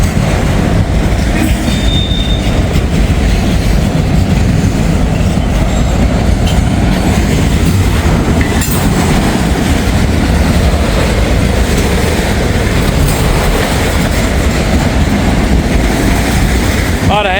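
A freight train loaded with SUVs rolls past close by in Hamilton, giving a loud, steady roar of rumbling wheels with rhythmic clicking and occasional high metallic squeals over the whole stretch.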